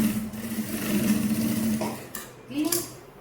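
A sewing machine stitching the shoulder seam of a kurti runs with a steady humming whir, then stops and restarts briefly. A person talks over it, close to the machine.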